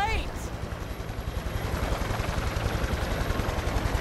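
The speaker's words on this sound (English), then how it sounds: "Oh, big jet." A big jet aircraft in the video game Cyberpunk 2077 passes with a loud, steady roar and a pulsing low rumble that builds slightly over four seconds, with a voice faintly present.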